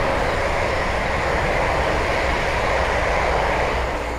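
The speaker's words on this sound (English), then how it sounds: "the next train to pass by is a pair up London to Western Railway Class 350s from Northampton to London Euston" Two London Northwestern Railway Class 350 electric units coupled together pass on the West Coast Main Line at Linslade, a steady, loud, close rush of broadband rail noise holding level throughout with no talk.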